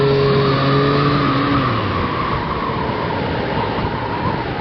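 A Triumph Street Triple 765 motorcycle engine under way, loud and continuous, with a falling rev tone early on, then a rough steady roar mixed with wind.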